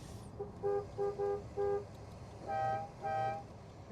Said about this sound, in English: It is resplendent with town and country horns.